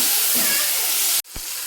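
Tomatoes frying in a pan give off a steady, loud sizzle with a hissing wash, briefly cut off near the end before the sizzling resumes.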